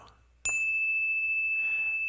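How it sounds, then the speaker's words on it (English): A meditation bell is struck once and rings with a clear, sustained tone that hangs steadily and slowly fades, alone in a quiet room. "As the sound of the bell fades off into the universe"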